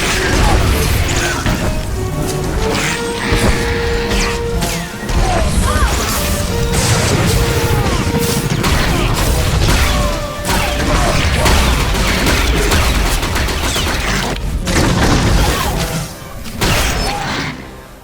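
Blaster gunfire fills a sci-fi battle in Star Wars: The Old Republic, loud dense volleys of zaps, crashes and impacts over a rumbling mix with tonal score, continuing almost without pause.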